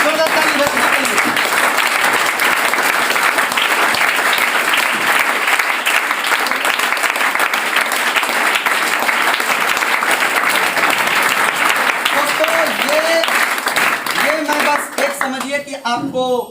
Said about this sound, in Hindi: जोरदार ताली बजाने के लिए